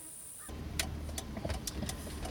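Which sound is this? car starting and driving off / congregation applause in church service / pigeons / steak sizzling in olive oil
car starting and driving off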